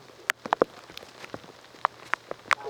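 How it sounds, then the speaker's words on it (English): Rain begins falling on a disc golf course during a tournament round, a faint steady patter with scattered, clearly separated drops tapping nearby surfaces, no talking. "now you can hear the rain is starting to come down a little bit here on our players"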